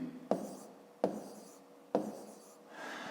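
A pen writes numbers by hand on paper, three short scratchy strokes at even intervals, close and quiet.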